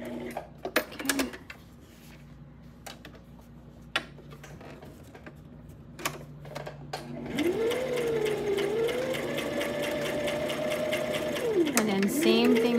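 A sewing machine backstitches the seam of a pinwheel hair bow, its rapid needle whir starting after several seconds of quiet handling noises and running steadily and close, with a brief dip and restart near the end.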